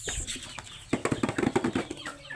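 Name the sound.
chickens being fed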